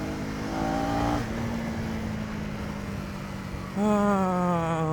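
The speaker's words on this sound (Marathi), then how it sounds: "my bike is roaring bro, roaring" A motorbike engine drones steadily nearby on a ride from Mumbai to Dapoli, then roars louder as the throttle opens near the end.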